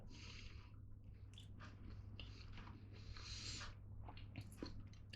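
Someone bites into and chews crunchy-crusted banana bread baked in an air fryer, giving close, quiet crunches and moist chewing sounds in several short bursts against a low hum.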